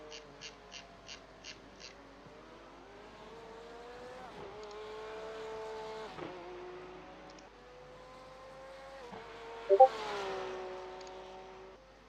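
Race cars lapping Spa-Francorchamps in the Belgian Ardennes during a 12-hour charity endurance race, engines rising and falling through gear changes as several cars pass at moderate distance, with a brief loud peak near the end.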